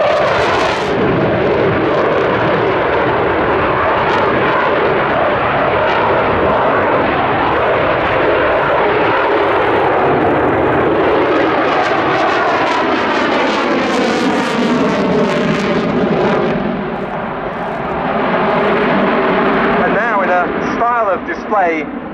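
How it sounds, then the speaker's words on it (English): A French Navy delta-canard fighter jet roars through an airshow flying display at Yeovilton, its engine noise loud and sustained, swelling and shifting in pitch as it passes, with a commentator talking over it. "Display unique to the French Navy, we see one aircraft going through its paces on a far axis"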